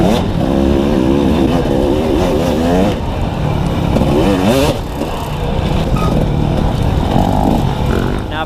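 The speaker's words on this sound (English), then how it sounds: "Oh, I'm starting to open up that can of throttle." Dirt bike engine revving hard as the throttle opens during a GNCC pro cross-country race through wooded trails, loud and close with rising and falling pitch sweeps throughout, and a rider's voice briefly audible over it.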